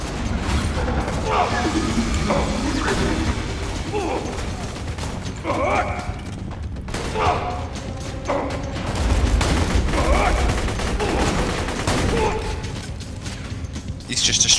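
Gunfire in the video game Borderlands 2 during multiplayer play, with dense, continuous shots and booms in a busy battle mix under loud talking from players.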